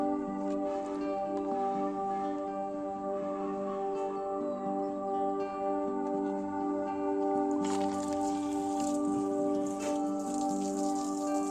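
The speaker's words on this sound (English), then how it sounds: "The water is flowing with great force." A small 5V pump hums steadily while water sprays from its nozzle in a wide spray and patters, with a louder burst of spraying toward the end.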